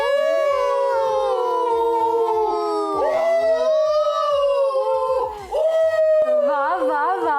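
A child imitates a fox's howl with long, wavering, rising and falling high-pitched wails, close and loud, repeated several times with brief breaths between.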